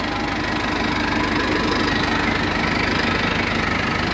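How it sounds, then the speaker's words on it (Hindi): A John Deere 5045D diesel tractor, 2013 model, idles steadily up close, a constant low rumble with a knocking pulse and no voices. "ट्रैक्टर की आवाज़ जो है बहुत ही प्यारी है।"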